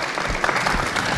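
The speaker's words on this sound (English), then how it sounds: "Could we have a round of applause, please, for our panelists?" Brief burst of audience applause for panelists at a Kenya Film Commission event, dense clapping from a crowd heard up close for just over a second.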